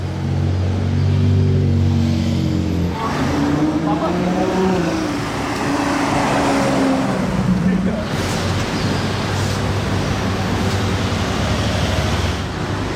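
A Roma Spider sports car from Saudi Arabia drives past at Place du Casino in Monaco, its engine note rising and shifting as it passes close by, mixed with wind noise and people talking nearby.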